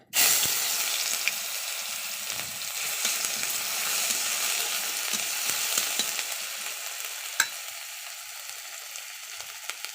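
Garlic fries in hot oil in a wok, a steady close crackling sizzle running throughout, with occasional clinks and scrapes of a spatula and no talking.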